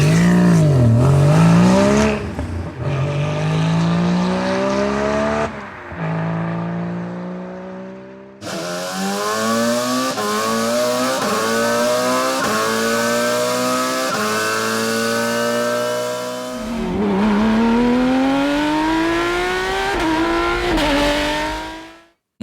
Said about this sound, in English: It's all about the engine sounds of famous Porsche cars.